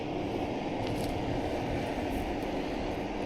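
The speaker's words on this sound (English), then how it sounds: "I apologize for the heater noise." A heater runs in a cold garage in December, giving a steady broadband whooshing hum that holds constant and close throughout, with no voices.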